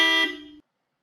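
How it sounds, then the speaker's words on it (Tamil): An aftermarket horn fitted on a 2025 Maruti Suzuki XL6 facelift gives a single short, bright honk of about half a second, close and clear, then cuts to silence. "வண்டியுடைய ஹாரன் சேஞ்ச் பண்ணியிருக்கோம். அதோட சவுண்ட்ஸ் எப்படி இருக்குங்கிறத நீங்க வந்து கேட்கலாம்."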